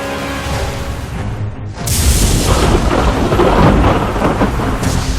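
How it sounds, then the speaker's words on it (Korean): Steady heavy rain pours down as a deep roll of thunder rumbles in and swells, loud and close, with the downpour hissing throughout. "잠시 소강 상태였던 비가 또 내리기 시작합니다."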